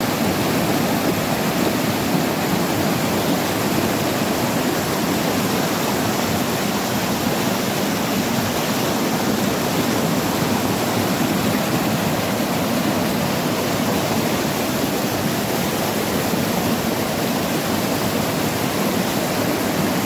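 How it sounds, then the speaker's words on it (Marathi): A fast-flowing river in the Konkan countryside rushes in a dense, continuous roar, loud and close throughout with no voices. "पण इथे पाण्याला प्रवाह भरपूर खूप आहे."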